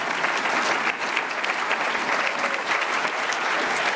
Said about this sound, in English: the applause can't last too long